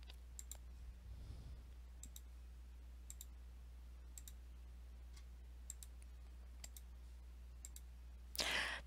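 A computer mouse clicks in sharp, evenly spaced pairs roughly every second while The Last Door is played, faint over a steady low hum, ending with a brief louder noise burst.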